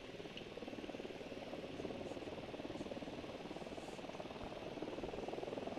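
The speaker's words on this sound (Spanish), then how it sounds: "Se acerca un helicóptero al suelo." Helicopter in the video game Ghost Recon, a steady rotor drone throughout that gets a little louder as it approaches, fairly faint, with no talk.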